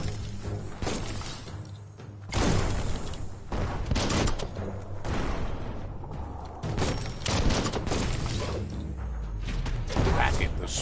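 Bomb lobber explosions in a video game battle, repeated loud bursts and shattering crashes in quick irregular succession amid ongoing clatter, with a person talking over the din.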